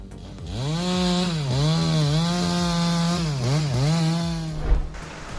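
A chainsaw fells and cuts a tree at a large logging site, its loud close engine whining steadily and dipping in pitch each time the chain bites into the wood, with no voices.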